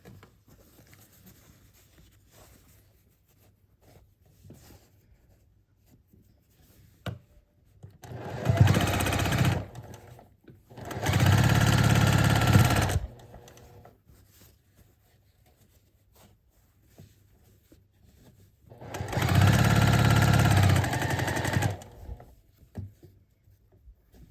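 A sewing machine stitches the final seam of a card trick quilt block in three bursts of loud, rapid running, the first two close together and the last after a longer quiet gap.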